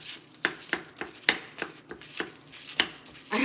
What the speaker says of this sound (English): Let's mix it all together.